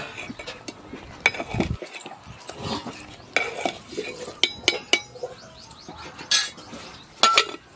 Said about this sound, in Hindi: दाल को भी एक बार चला लेते हैं।